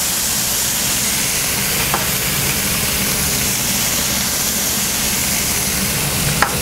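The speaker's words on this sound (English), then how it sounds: "bell peppers, and saute it for a couple seconds" Bell peppers sautéing in a hot pan give a steady, loud, broadband sizzle that runs without a break, with a few faint clinks of a utensil on the cookware.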